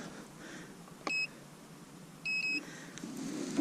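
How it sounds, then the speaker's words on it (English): A grass height meter used on spring pasture gives short electronic beeps: a single beep, then a paired beep a moment later, clear over quiet outdoor background. "every time you take a reading, it beeps and records on this side"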